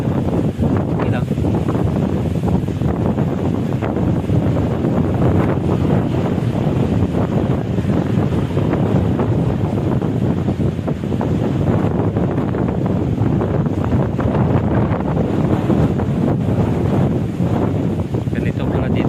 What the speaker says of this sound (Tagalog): kahit malakas yung hangin, okay naman.